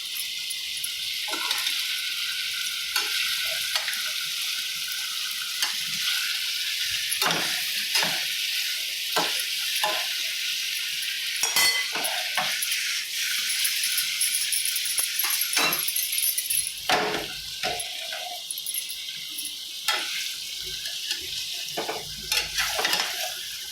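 Paneer curry frying in a pan, a spoon scraping and stirring in repeated clatters over a continuous sizzle, fairly close and with no talking throughout.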